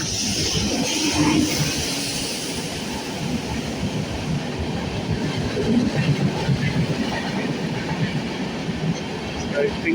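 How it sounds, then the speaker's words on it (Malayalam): A WAP7 electric locomotive hauls the Jamnagar train through Irinjalakuda Railway Station, a steady close rumble of passing coaches with rhythmic wheel clatter and rattling throughout. "WAP7. I think it is Jamnagar train."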